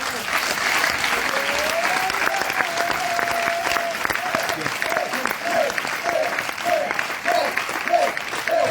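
A church congregation claps and cheers in praise during a worship gathering, with continuous applause and rising voices, including a sustained vocal tone and a run of rhythmic calls, loud and lively throughout.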